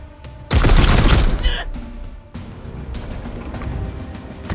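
Combat in Warhammer 40k: Chaos Gate – Daemonhunters: a sudden loud burst of gunfire with a crashing impact for about a second, then quieter scattered battle noise under speech.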